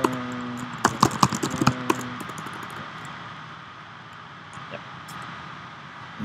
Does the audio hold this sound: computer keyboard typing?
yes